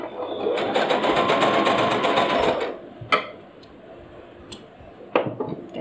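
A sewing machine stitches a blouse, running in a loud, close, fast steady whir for under three seconds before stopping, followed by a few brief clicks and handling sounds.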